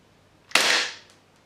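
A single sharp shot from an airsoft gun fitted with a SilencerCo Osprey 45K suppressor, heard as one loud, close, hissing burst that fades quickly, alone with no talk.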